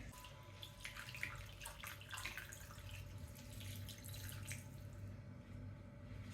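Tap water runs and splashes into a cooking pot over pork belly, a steady close pour with dripping and a low background hum, no talking.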